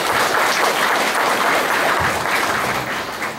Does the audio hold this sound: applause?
yes